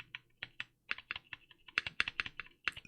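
Rattly spacebar on a 60% keyboard fitted with Cream switches, pressed over and over: close, crisp clacks in an uneven rhythm, some louder than others, with no voice.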